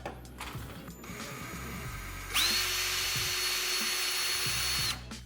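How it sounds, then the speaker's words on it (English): A power drill whines up and bores steadily for a few seconds at close range into a headlight housing of a 2003–2007 Chevrolet Silverado, pitch holding high before it cuts off, after some quieter handling noise. "So I'm just gonna drill a hole right there."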